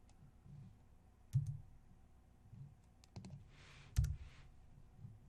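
Computer mouse clicks and keyboard typing while working in an org chart app, a few sharp separate clicks and short bursts of keys, close and fairly quiet against a low background hum.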